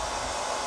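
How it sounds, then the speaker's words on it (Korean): Hair dryer blowing steadily at close range while styling a man's hair with water-based pomade, a continuous airy hiss with no talk over it. "드라이기 한번 해볼까?"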